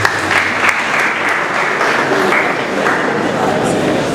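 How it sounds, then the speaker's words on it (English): Audience applause with distinct individual claps at a school quiz competition, a steady patter of many hands lasting around four seconds, close and fairly loud, with faint voices mixed in underneath. "Okay, we can clap for them."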